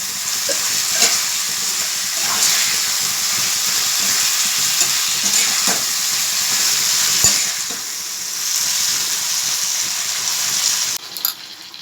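Capsicum frying in a spice paste masala for a paneer dish, a steady close sizzle and hiss with occasional stirring scrapes, no talking.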